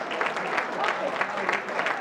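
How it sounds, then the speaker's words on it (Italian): Spectators at a youth athletics championship applaud a race winner, steady moderate clapping from a crowd with an announcer's voice talking over it. "Meritato applauso."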